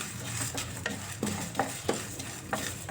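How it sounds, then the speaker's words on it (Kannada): A spoonful of mustard seeds dry-roasting in a pan for puliyogare gojju, a soft sizzling bed with intermittent sharp taps and scrapes as the seeds are stirred, close and moderately loud with no voices. "1 ಸ್ಪೂನು ಸಾಸಿವೆನ ನೋಡಿ ಹುರಿಬೇಕು ಈ ಥರ"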